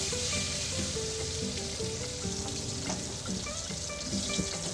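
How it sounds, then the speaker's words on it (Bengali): Potato pieces coated in salt and turmeric fry in hot oil in a pan with a loud, continuous close-up sizzle and crackle, over faint tonal background sounds. "এবার আলু ছেড়ে দিলাম"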